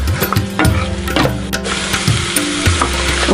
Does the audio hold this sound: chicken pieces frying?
yes